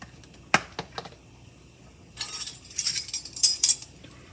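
A spoon mixes granulated sugar and apple pie spice in a bowl, giving a few sharp clinks and then a busy stretch of gritty scraping and tapping, close and alone.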